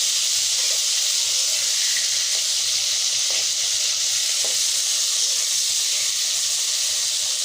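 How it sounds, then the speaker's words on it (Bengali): Pangasius fish pieces shallow-frying in oil in a pan give a steady, even sizzle and hiss that runs the whole time, with a few faint pops and no voices. "এভাবে করে হালকা ফ্রাই করে ভেজে নিয়ে"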